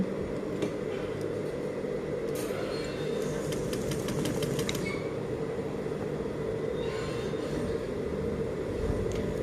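Sewing machine stitching fabric pieces together for a lapped seam, a steady close mechanical hum and whir running throughout with faint ticking and clicking on top, no speech.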